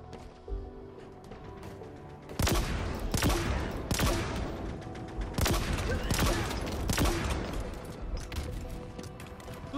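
The Hydra weapon in Halo Infinite multiplayer fires a run of sharp, rapid shots in bursts, loud and close, with clattering reload and mechanism noise between volleys.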